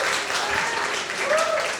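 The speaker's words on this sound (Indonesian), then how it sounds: "tepuk tangan untuk Wanda Hamidah." Steady audience applause at a talk show event about Gaza, sustained clapping at moderate volume with a faint tonal sound near the end.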